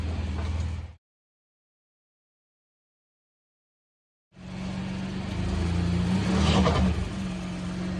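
A car backs out of a bay after an oil change. A steady, close engine hum and tire rumble is heard, then a brief silence, then the engine returns and rises slightly as the car moves.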